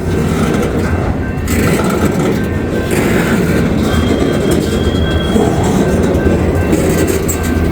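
A coal freight train passing close by, a loud continuous rumble of rolling wheels and rattling cars with faint squealing, steady throughout.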